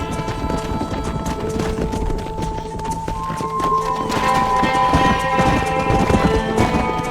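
Steady clip-clop of horse hooves trotting at a brisk, even rhythm in the video game Red Dead Redemption while herding cattle, with a bright chiming tone ringing over the hoofbeats.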